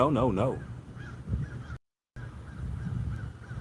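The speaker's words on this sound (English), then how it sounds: "I want y'all to hear these crows." Crows caw in the background, a few harsh repeated calls under a steady outdoor murmur, with a voice speaking briefly and a short gap of silence midway.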